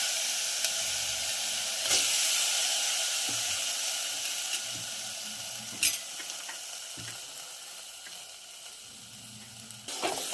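Crushed lemon and jaggery mixture cooking in a pan, a steady soft sizzle and bubbling with occasional sharp clicks and scrapes of stirring, alone with no voices.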